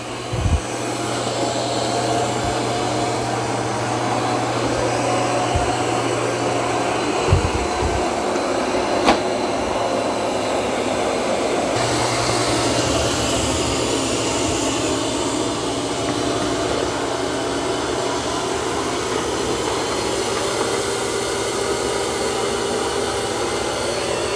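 A Eufy X10 robot vacuum mopping along the walls gives off a loud, steady motor whine that runs unbroken, with a few faint knocks and a slight shift in tone partway through.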